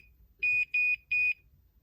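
A sublimation tumbler press timer sounds three short, shrill electronic beeps in quick succession, loud and close against near silence, with no one talking.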